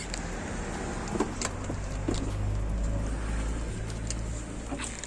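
Cabin noise inside a moving dolmuş shared minibus: a steady low engine and road rumble with faint rattles and clicks, continuous throughout with no talking.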